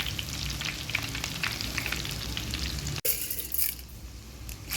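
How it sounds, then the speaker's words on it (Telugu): Garlic and mustard seeds fry in hot oil for a tempering for an amla pickle, a dense, steady sizzle that breaks off briefly and then returns brighter and more crackly, close and alone with no talk. "ఇప్పుడు తాలింపు చేసుకోవాలి తాలింపులో ఫస్ట్ వెల్లుల్లిపాయలు వేసుకున్నాను"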